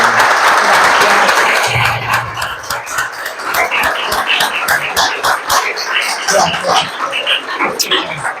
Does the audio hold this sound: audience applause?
yes